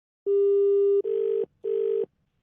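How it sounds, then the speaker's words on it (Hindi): A telephone line during a prank call gives one long steady tone followed by two shorter, evenly spaced tone bursts, clear and isolated, then silence. "नंबर मिला रहा है भाई बार बार"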